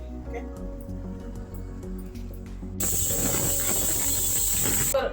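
A pressure cooker cooking meal maker pulao starts whistling midway, a loud, bright, steady steam hiss that bursts in after a quieter stretch of kitchen sounds and holds until the end.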